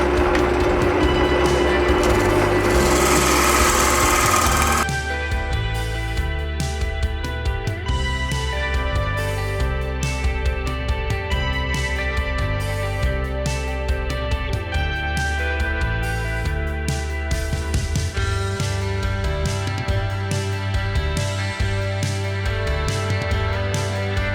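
An ash rolling pin handle spins on a wood lathe while a carbide tool cuts it, giving a loud, continuous humming whir with a harsher scraping burst in the first few seconds, then a steady rhythmic churn.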